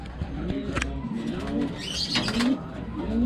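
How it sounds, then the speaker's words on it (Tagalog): A pet bird coos softly nearby in a few low, rolling calls against a faint background hum. "Ito bago kong ibon yan."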